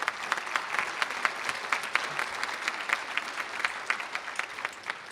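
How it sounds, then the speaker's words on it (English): An audience at a law school commencement claps steadily, a dense moderately distant wash of applause with no talking. "let's give them another round of applause."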